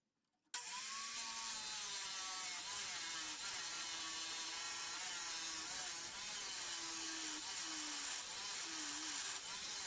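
A power tool cuts off the tines in a loud, continuous high-pitched grinding whine that starts abruptly and holds steady, its pitch wavering slightly as it bites into the metal.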